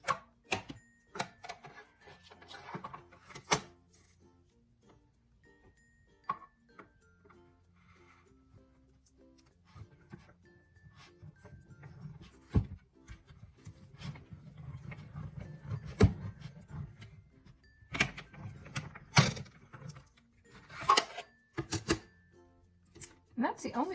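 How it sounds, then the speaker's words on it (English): A small desktop mini die cutting machine being cranked, giving a run of close mechanical clicks and rumbling grinding in the middle, with scattered taps and handling knocks before and after, while a person talks. "how much I love this little die cutting machine because it can sit right here"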